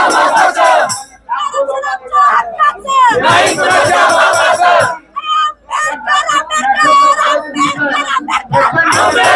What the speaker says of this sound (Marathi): बघू शकता हे कॅमेऱ्यामध्ये सुद्धा ही जनता मावणारी नाही आहे, एवढी अफाट गर्दी आहे।